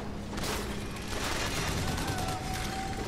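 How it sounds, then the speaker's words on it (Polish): Gunfire in the shooter game Bioshock Infinite sounds as a dense, continuous barrage of rapid shots and impacts under game noise, loud and steady for the whole stretch. "Ktoś strzela do mnie."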